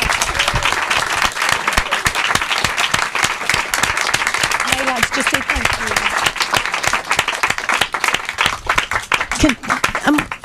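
Audience applause for an author at a book event, dense steady clapping filling the room for about ten seconds, with a voice speaking briefly over it near the end.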